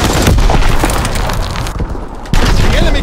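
Loud, dense battlefield din from Call of Duty: WWII with booming explosions and bursts of fire throughout, a flak gun blast among them, a brief dip then a sharp renewed boom near the end.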